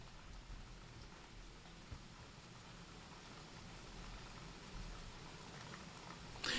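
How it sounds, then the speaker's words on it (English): Steady hiss of rain falling outside an open window, soft and continuous with a faint low rumble underneath and a brief louder burst at the very end. "Is the rain too loud bothering you? I could close the window"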